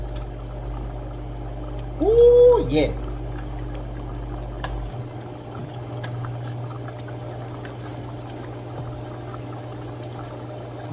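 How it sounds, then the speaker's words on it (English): Shredded chicken is poured into a pot of boiling water, with a brief burst of splashing and bubbling followed by a steady low simmer; someone speaks briefly over it. "now you get your shredded chicken and pour this inside here"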